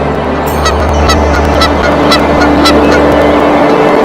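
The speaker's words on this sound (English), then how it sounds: "The lull of the night is quickly shattered by the symphony of birds and crowing roosters." Dawn in an Indian village: a dense chorus of birds and fowl calling repeatedly, with honking and crowing-like cries over a busy background.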